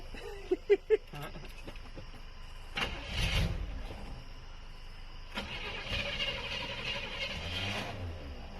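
An old car with a newly installed engine, intake and carburetor cranks over with a few sharp clicks, then catches and settles into a rough idle that builds and surges as it warms, heard up close.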